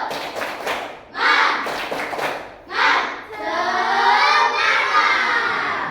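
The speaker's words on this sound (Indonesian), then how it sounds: "Tepuk semangat." Children in a school classroom perform a rhythmic tepuk semangat clapping routine, bursts of group claps broken by short pauses, ending in a long sustained chorus of young voices shouting together.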